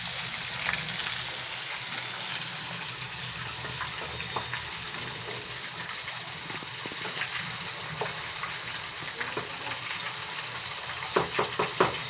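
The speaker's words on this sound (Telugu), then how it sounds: "చేప ఫ్రై బాగా రావాలనుకుంటే సిమ్లోనే ఉండాలి" Pieces of spiced fish fry in oil in a pan over a low flame, giving a steady soft sizzle with scattered small pops and crackles that grow a little busier toward the end.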